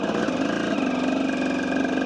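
A KTM 250 EXC enduro motorcycle runs steadily on a dirt trail, its engine a continuous close buzz with a slight change in tone partway through and no voices.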